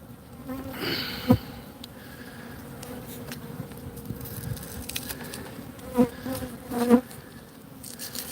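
Honeybees buzz steadily around a hive opened after several months, a close, continuous drone with a few brief louder swells and light knocks as the propolis-sealed frames are worked.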